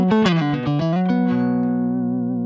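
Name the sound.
guitar through Smooth Impact pedal in vintage mode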